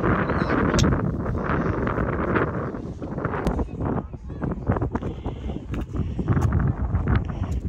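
Strong wind at the seaside buffets the microphone in a continuous loud roar with gusty swells, while people talk faintly beneath it.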